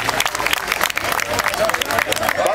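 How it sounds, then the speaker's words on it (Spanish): Crowd applause fills a Three Kings' Day (Día de Reyes) municipal Rosca de Reyes celebration in Ocotlán, dense and continuous at a steady moderate loudness, with some voices mixed in. "fuerte más fuerte el aplauso, por favor"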